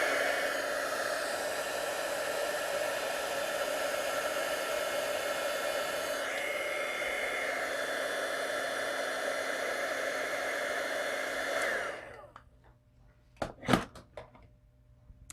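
A heat tool blows a steady, loud whooshing hum for about twelve seconds while melting embossing powder, shifting pitch slightly midway, then switches off, leaving a few sharp taps and rustles.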